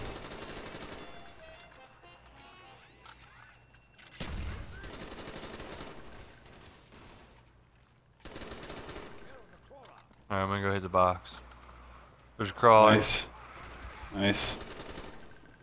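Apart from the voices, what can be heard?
gunfire from Black Ops Zombies video game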